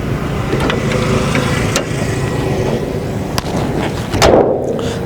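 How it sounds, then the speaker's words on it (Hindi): The bonnet of a white 2016 Toyota Corolla is shut with a single solid thud near the end, preceded by a few light clicks and rattles against steady background noise. "तो गाड़ी का मैं बानट क्लोज़ कर देता हूं।"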